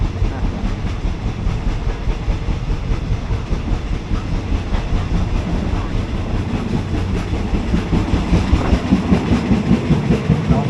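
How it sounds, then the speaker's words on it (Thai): Steady rumble and rhythmic clattering of a moving ordinary passenger train, route 259 between Taling Chan Junction and Salaya in Thailand, heard from inside a carriage, wheels clicking over rail joints throughout. "ดูบรรยากาศภายในขบวนของรถไฟ259ต่อ"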